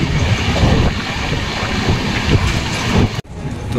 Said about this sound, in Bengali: তো ট্রেন আমাদের এখন কিষানগঞ্জ স্টেশন ছাড়ছে।